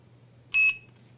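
A single short, shrill electronic beep from a SHIDOKU cordless garden pruner while its button is held, sounding alone and close over a faint low hum.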